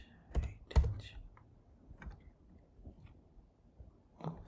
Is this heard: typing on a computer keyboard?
yes